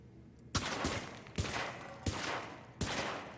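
Gunshots fired at targets, four sharp reports spaced about a second apart, each followed by a brief decaying echo.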